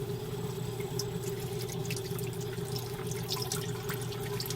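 Water streams and trickles steadily as the rollers of a wringer washer squeeze laundry, with a constant low mechanical hum underneath and no talking.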